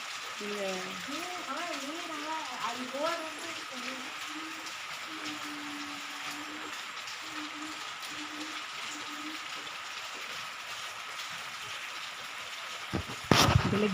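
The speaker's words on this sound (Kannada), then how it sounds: "ಬೆಳಗಿನ ಮಳೆ ನೋಡಿ ಎಷ್ಟು ಜೋರು ಮಳೆ ಇದೆ" Heavy morning rain hisses steadily and evenly throughout, with a voice briefly audible near the start and a sharp knock just before the end.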